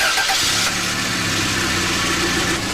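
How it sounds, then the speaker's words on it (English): Car engine running steadily after starting, with a rough low idle rumble and broadband hiss throughout, close and moderately loud, during a catalytic converter back-pressure test. "We'll start the engine and see what the pressure is."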